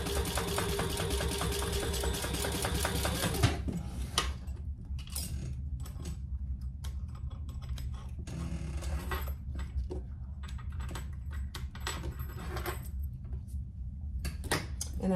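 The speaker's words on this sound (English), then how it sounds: "And let's stitch that in place." Sewing machine running steadily while stitching a convertible hip bag, a dense continuous mechanical whir at first, then lighter intermittent clicks and ticks over a constant background hum.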